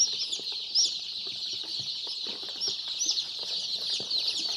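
Day-old pullet chicks crowd a brooder, their high, thin peeping forming a dense, continuous chorus that stays at a steady, moderate level throughout with no talking.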